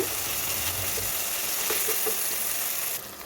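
Onions and tomatoes being mashed and sautéed over a medium flame for veg cutlets sizzle softly and continuously in a pan, with a few light scraping stirs near the end.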